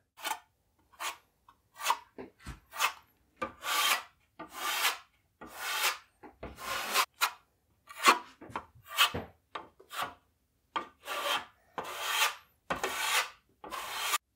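A spatula spreads drywall filler over plasterboard crosswise, giving close, loud scraping strokes in an irregular rhythm of short rasping passes with brief pauses between them.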